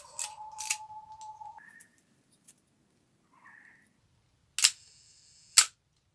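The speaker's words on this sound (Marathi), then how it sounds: "आता तुम्हाला दिसलं शटर उघडते आणि कसं बंद होतं ते" A camera with a vertical shutter that travels up and down fires twice, each a sharp isolated snap, after some quieter mechanical fiddling and a faint whir early on.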